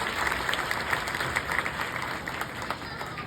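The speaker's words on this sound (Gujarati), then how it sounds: "એના માટે એક તાળીનો ગડગડાટ કરી દો" A crowd at a Gujarati Solanki family reunion gathering claps in a fairly distant, steady wash of applause with a hiss of room noise.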